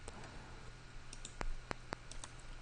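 Several sharp computer mouse clicks in CAD modeling software, three distinct ones close together and a few fainter taps around them, heard near and alone over a quiet hum.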